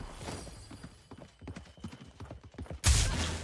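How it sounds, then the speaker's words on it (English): Horse hooves clip-clopping in the video game Realm Royale, a steady run of mid-close hoofbeats over about three seconds that ends in a louder burst of noise. "I hear a horse."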